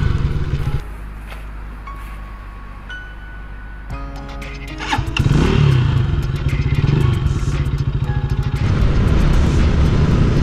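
A GPX Legend 150S scrambler motorcycle rides over a rough, broken road, its small engine droning steadily up close while the bike rattles and thumps over bumps, growing louder and busier halfway through.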